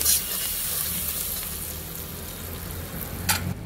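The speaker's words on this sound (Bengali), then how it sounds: "একটু গুঁড়া মশলা যেরকম হলুদ গুঁড়া, লঙ্কা গুঁড়া দিয়ে একবার নাড়িয়ে নিচ্ছি।" Ground turmeric and chili powder stirred into spices sizzling in a frying pan for a dhaba-style egg tadka, giving a steady soft fry hiss with light scraping and a brief clatter near the end.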